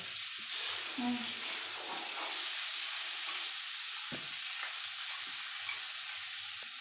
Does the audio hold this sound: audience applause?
no